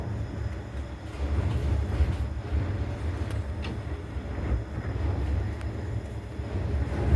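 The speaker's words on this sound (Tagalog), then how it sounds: "Ewan ko kung naririnig niyo yung ano, lakas ng hangin." Strong typhoon wind roars steadily with a deep rumbling low end, gusting slightly and buffeting continuously with no pauses.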